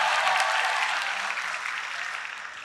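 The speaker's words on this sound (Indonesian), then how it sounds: "Tepuk tangan untuk semuanya." Audience applause at a BKKBN stunting-prevention kickoff event, a dense wash of clapping from a crowd, loud at first and gradually tapering off.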